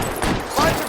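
Gunfire in the video game L.A. Noire: a short, dense burst of shots within less than a second, loud and close.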